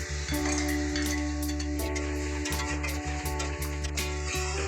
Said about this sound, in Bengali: এরপর দিয়ে দেবো পেস্ট করে রাখা টমেটো। হালকা নেড়ে নেব এবং ফুটতে ছেড়ে দেব।